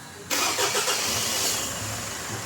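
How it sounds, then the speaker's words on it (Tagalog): Mitsubishi Strada engine, just serviced with an oil change and new fuel filter, starting on one quick crank and settling into a steady idle, close and fairly loud. "Tapos pa-start ko ulit itong makina"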